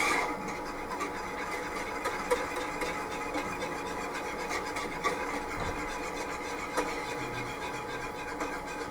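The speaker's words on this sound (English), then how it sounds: "Just want to keep whisking it." An egg-yolk-style emulsion whisked steadily as oil thickens and warms, giving a continuous close scraping and rasping of a whisk against a bowl for the whole stretch, with no talking.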